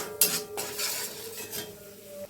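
Spice paste of ground coriander and cumin, chili powder, turmeric and sea salt is stir-fried in a pan. A utensil scrapes and clinks against the metal in a few strokes over a soft sizzle, close up.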